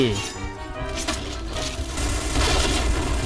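Gunfire rattles in the online shooter Point Blank, played on a Thai server, as rapid bursts and booming shots mixed with game noise; a voice is faintly present underneath.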